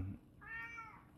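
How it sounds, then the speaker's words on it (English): A cat gives a single short, faint meow lasting about half a second, alone after a brief low thump. "that is a cat."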